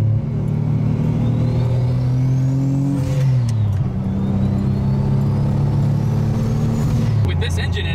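A Nissan 240SX S14 with a single-turbo VQ35HR swap revs hard and close, engine pitch climbing, then dipping sharply on a downshift before pulling up again, with a turbo whoosh and a final drop.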